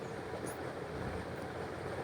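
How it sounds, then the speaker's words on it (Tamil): A passenger train rolls through Solapur Junction in Maharashtra, giving a steady, close rumble of wheels and carriage noise that runs unbroken for the whole stretch with no voices. "இந்த ட்ரெயின் போயிட்டுருக்கு."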